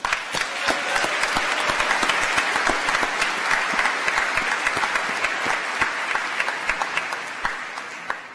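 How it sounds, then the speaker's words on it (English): Graduates and audience at an engineering commencement applaud steadily, a dense, loud wash of many hands clapping that holds evenly for several seconds before thinning slightly at the end. "let's give them a round of applause"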